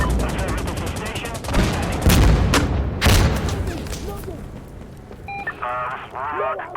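Rapid bursts of gunfire and booming shots crack out in the Insurgency Sandstorm shooter, loud at first and then thinning out, with game radio chatter and beeps toward the end.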